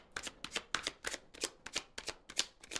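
Tarot cards are handled and laid out, giving a run of about ten crisp papery flicks and snaps in an even rhythm. The sound is close and quiet, with no talk over it.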